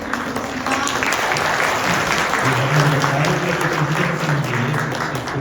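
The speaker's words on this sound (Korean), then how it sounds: "다시 한번 박수 부탁드리겠습니다" Audience applause at a regional policy forum and debate in Korea, sustained dense clapping from a seated crowd lasting several seconds, with a voice speaking over it midway.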